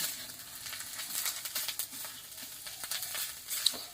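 Food frying in a pan with turmeric and chili, a continuous bright crackling sizzle with soft stirring scrapes, close and steady, with no talking.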